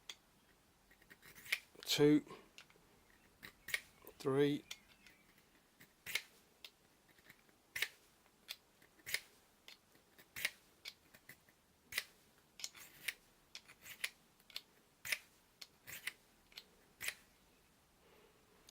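A knife blade drawn against a Lansky Roadie sharpener, producing a run of short scraping strokes in steady rhythm, close and fairly quiet, with a person briefly counting aloud near the start.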